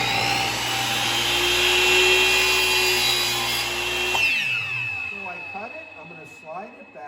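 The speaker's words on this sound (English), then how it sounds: "this mark is about even with that space that the saw blade is going to come down" A miter saw cuts a miter on a picture frame piece, a loud close whine with blade spin and cutting for about four seconds, then winding down as a voice starts talking.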